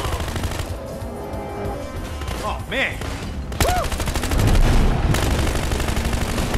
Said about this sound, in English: keep shooting. Unlimited ammo on this bitch.